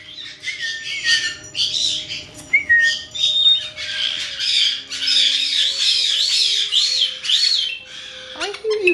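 Pet birds squawking and chirping indoors in a run of shrill, rising and falling calls, fairly close, with a quiet background hum.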